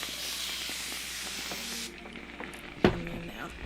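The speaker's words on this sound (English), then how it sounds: "I actually think I'm gonna spray my hair." A spray bottle mists hair with a steady close hiss lasting nearly two seconds, then stops, followed by a quiet pause and a single small knock.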